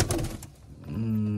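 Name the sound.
Madras pigeons cooing in loft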